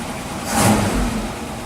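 A car engine while driving down the road, with a steady drone and a brief swell of revving under wind noise, heard from inside the vehicle.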